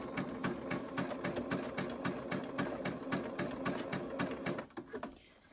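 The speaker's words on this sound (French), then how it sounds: "je vais commencer à coudre." Domestic sewing machine sewing a zigzag stitch, a close, rapid, even mechanical chatter of regular needle strokes that runs steadily for about four and a half seconds, then slows and stops.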